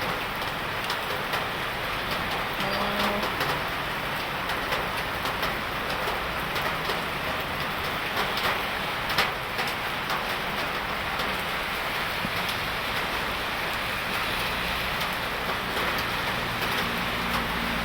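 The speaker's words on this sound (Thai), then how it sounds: "หนังน้อยเด้งประมาณ 12 นาทีก็ฝนตกพี่น้องเลยเนาะ" Steady rain falls throughout on an early morning, a continuous loud hiss of drops on surfaces with occasional birdsong faintly heard beneath it and no talking.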